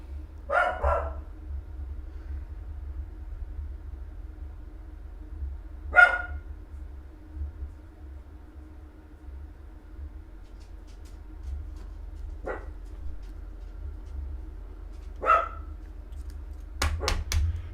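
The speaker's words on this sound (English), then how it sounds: "the dog's barking and scaring her" A few sharp dog barks spaced far apart, faint to moderate and somewhat distant, over a low steady hum, with a quick burst at the end.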